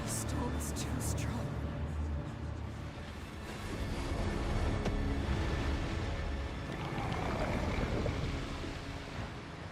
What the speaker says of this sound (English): The storm is too strong.